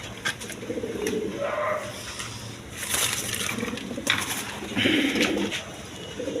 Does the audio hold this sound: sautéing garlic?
no